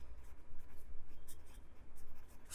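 Pen or marker writing on paper or a board, a soft continuous scratching with faint stroke-by-stroke rhythm, fairly quiet and close, with no talking.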